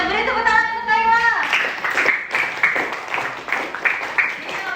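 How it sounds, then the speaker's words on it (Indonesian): Schoolchildren clap their hands for a classmate during a classroom religion lesson, a brief stretch of voice coming first and then a run of quick, close, scattered claps lasting several seconds. "beri tepuk tangan untuk Kayla"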